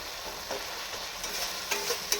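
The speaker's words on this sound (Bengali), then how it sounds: "আমি এই মশলা ভাজার মধ্যে একটু চিনি দিয়ে দিচ্ছি" Spices frying in a pan for a fig (dumur) ghonto, a continuous crackling sizzle with a few brief louder pops and scrapes of stirring, close and steady with no talk.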